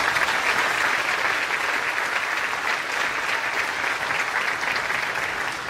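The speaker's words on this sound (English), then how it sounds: "A round of applause for these folks." An audience at a 2023 high school graduation ceremony gives a round of applause for standing former Brooklyn kindergarten and pre-K students, a loud, dense, sustained clapping that holds evenly throughout.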